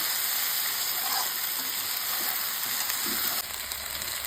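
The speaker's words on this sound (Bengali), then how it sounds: "10 মিনিট ধরে এটাকে ভাজতে হবে" Pickle ingredients frying in a pan, a steady close hiss and crackle that holds for the whole stretch with a few faint stirring knocks, no voices.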